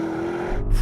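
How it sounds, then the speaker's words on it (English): Audi RSQ8 SUV launching at full throttle in sport mode, with a steady engine drone that swells into a deeper, louder surge in the final half second of a very short burst. "put the gearbox into sport, the stability control into sport as well, then just left foot on the brake, floor the throttle, and launch it."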